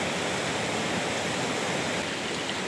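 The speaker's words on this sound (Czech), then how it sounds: "A potůček Doubravice, který jsme si ukázali pod železničním mostkem, zde u jezu se vlévá do řeky Sázavy." The Doubravice brook pours over a weir into the Sázava river, making a constant, dense rush of falling water, near and loud, unbroken throughout.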